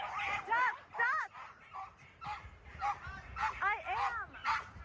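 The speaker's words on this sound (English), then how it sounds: "Oh shit, Doug's fighting all three dogs." Several dogs fight, with a rapid tangle of yips, whining barks and whimpers coming in quick repeated bursts at a moderate distance, alongside other voices.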